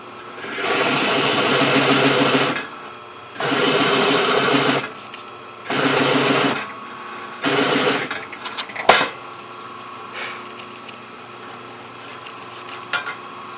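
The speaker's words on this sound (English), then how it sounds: "So I'm going to have to countersink that to use a flathead screw." Power drill countersinking a screw hole in a wooden tabletop, running in four loud whirring bursts of a second or two each, separated by short pauses, followed by a sharp knock and faint handling noise.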